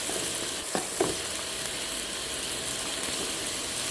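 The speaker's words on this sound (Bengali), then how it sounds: "পেঁয়াজ কুচি ভালো করে নেড়ে চেড়ে ডিপ ব্রাউন করে ফ্রাই করে নিতে হবে" Chopped onions sizzle in hot oil in a pot, a steady hiss throughout with a couple of brief stirring knocks near the start, no talk.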